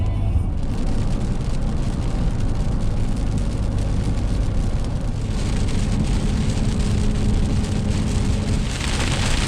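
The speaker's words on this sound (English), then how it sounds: "It's already starting to rain." Steady heavy rain drums on a car while driving toward a dark line of thunderstorms near Port Aransas, Texas, a dense continuous hiss and patter filling the cabin with no talking.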